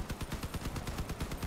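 Rapid gunfire from a vehicle-mounted weapon while driving in the Crossout combat game, a steady fast burst of shots repeating without pause under the engine noise.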